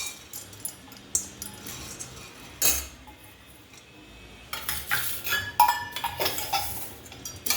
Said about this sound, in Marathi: आता आपण हरभऱ्याची डाळ भाजून घेऊयात.